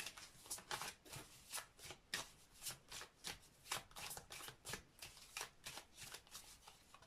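Tarot-style cards are shuffled and handled during a card reading, a steady run of close, crisp riffling bursts repeating at an even rhythm with no talking.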